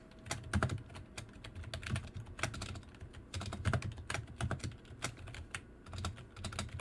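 Fast typing on a computer keyboard: close, crisp key clicks in irregular bursts with short pauses, and no voices.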